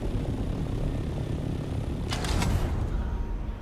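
A plane in the Dune: Awakening video game flies with a steady, loud engine drone that stays constant throughout, with a brief brighter whoosh rising partway through; no one speaks.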